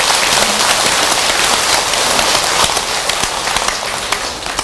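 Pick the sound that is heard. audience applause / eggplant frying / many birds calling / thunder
audience applause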